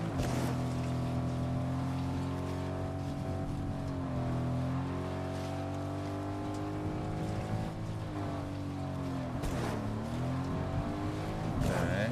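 Car engine in Fortnite droning steadily throughout, with shifting harmonic whine as the car speeds up and slows, loud and continuous with no talk over it.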